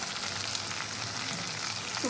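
Spice paste sautéing in a pan with steady, dense frying sizzle throughout, close and even with no pauses, and no talking.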